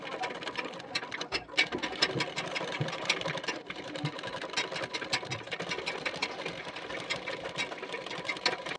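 A sewing machine top-stitches a nylon fabric part, its rapid needle clatter running continuously at close range with a few short pauses and restarts between bursts.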